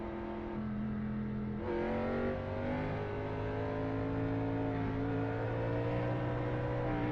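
A race car engine in the iRacing sim revs steadily and loudly, its pitch climbing smoothly toward the top of the rev range after a brief shift, with a continuous whining drone and no talk.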